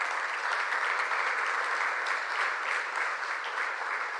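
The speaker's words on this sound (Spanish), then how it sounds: "Dale un aplauso." A church congregation applauds together, a dense and steady wash of many hands clapping that keeps an even level from start to finish with no talking heard over it.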